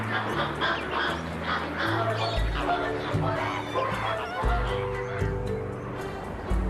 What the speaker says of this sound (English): in the air, they communicate with loud honking